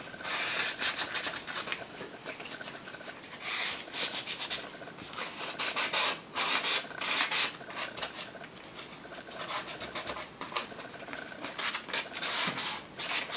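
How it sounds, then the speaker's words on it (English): Hand sanding of a table edge with a piece of sandpaper after CNC cutting, giving a steady, close scratchy rubbing with continuous strokes throughout and no voices. "I'm just going to take a little bit of sandpaper, like that, and just give it a light rub down"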